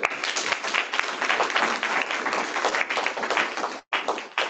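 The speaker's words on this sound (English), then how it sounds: "Let's give the panel a round of applause." Applause from a conference audience for a family business panel, a steady, fairly loud rattle of clapping that carries on for several seconds before cutting off briefly and resuming.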